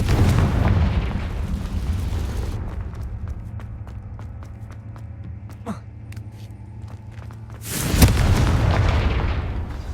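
Confringo fire spell bursts in Hogwarts Legacy, two heavy booming blasts at the start and near the end, with quieter ticking and rumbling game sounds between.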